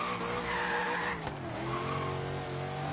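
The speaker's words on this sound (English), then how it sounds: "we're going to start out with a couple of donuts. Maybe some drifts into second gear" Tires of a Chevrolet Corvette Z06 drag build squeal as it spins donuts in the racing game Forza Horizon 3, a sustained high screech over the steady engine drone, loud and close.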